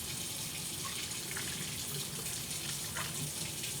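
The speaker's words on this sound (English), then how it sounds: "Now I'm just gonna fill it up with water." Water pours steadily from a tap into a BlendJet 2.0 portable rechargeable blender jar packed with ice, a continuous close splashing flow with no talking.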